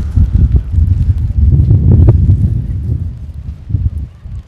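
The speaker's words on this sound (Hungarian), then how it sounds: "Szél és eső kombinációja cseppen sem kellemes." Wind buffets the microphone at a rainy football pitch during a match, a loud low rumbling roar that surges and dips throughout with no clear talk.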